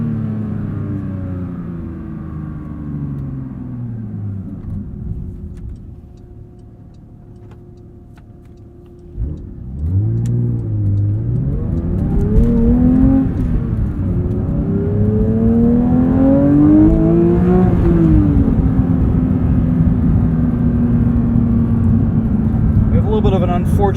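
A Porsche 911 GT3 with a manual gearbox revs hard from the cabin, its engine note dipping briefly and then climbing loud and strained toward redline, sustained and rising in pitch.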